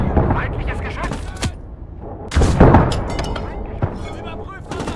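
Enemy artillery fires in the World War II game Gates of Hell: Ostfront, with heavy booms and sharp blasts landing among shouting soldiers' voices, followed by a rolling rumble.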